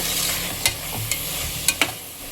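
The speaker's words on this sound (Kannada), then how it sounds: "ಸೊ ಚೆನ್ನಾಗಿ ಮಿಕ್ಸ್ ಮಾಡಿಬಿಟ್ಟು ಮತ್ತೆ ಇನ್ನೊಂದು 2 to 3 ಮಿನಿಟ್ಸ್ ಕುಕ್ ಮಾಡೋಣ" Chicken coated in masala stirred in a pan for biryani, a steady close sizzle and frying hiss broken by a few sharp spoon-against-pan scrapes and clinks.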